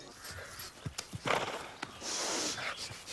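A horse's hooves clop unevenly on a hard surface, with a snort or rustle and a longer breathy noise partway through.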